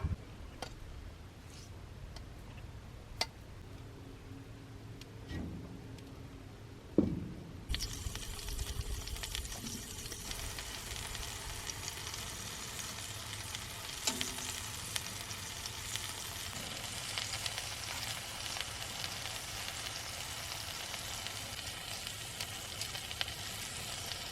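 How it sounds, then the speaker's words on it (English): Ground beef browning in olive oil: a sharp clatter as the meat goes in, then a loud, steady sizzle that continues unbroken to the end. "So we'll add olive oil. We're gonna brown our ground beef."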